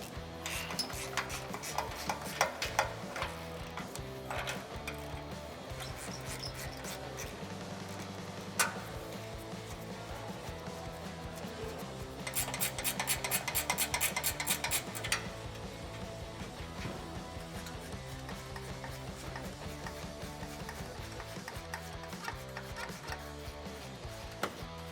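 Soft, continuous mechanical rubbing and rapid clicking, with a denser burst of fine ratchet ticks midway, as 14mm rear bolts on a Ford GT H-pipe are removed under a car; quiet and close with no talking.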